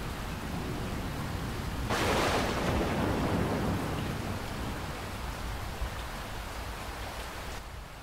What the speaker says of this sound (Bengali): সন্ধ্যে থেকেই বৃষ্টি পড়ে চলেছে, আকাশটা বড়ই খারাপ। খানিক পরপর বিদ্যুৎ চমকাচ্ছে, সাথে মেঘের গর্জন।